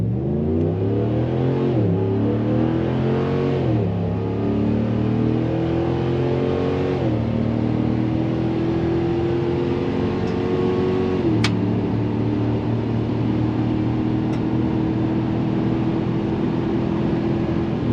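A Ram truck with an eight-speed automatic transmission accelerates from a standstill, its engine note climbing steadily and dropping back at each of several smooth upshifts, loud and continuous throughout.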